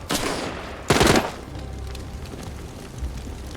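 Gunfire in The Walking Dead: Saints and Sinners video game: two loud bursts of shots, the second heavier and rattling, followed by lingering low rumble and ambient noise.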